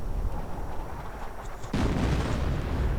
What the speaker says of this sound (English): Artillery raking the Allied front lines,